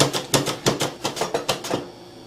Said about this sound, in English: you go ahead and get your mandolin and you just start slicing it like this